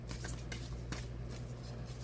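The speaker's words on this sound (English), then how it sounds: "And one last shuffle here" Tarot cards shuffled by hand during a reading, a few soft riffling bursts, faint and close over a low steady hum, with no talking.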